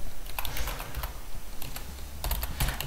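Typing on a computer keyboard while setting up Xubuntu 16.10, quick irregular clusters of close, crisp key clicks with brief pauses between bursts and no voice over them.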